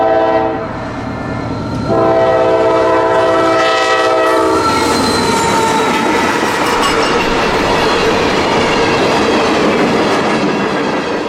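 An empty freight train led by wide-cab GE locomotives rolls past loudly and up close, its horn sounding steady tones before the rumble and clatter of cars carry on.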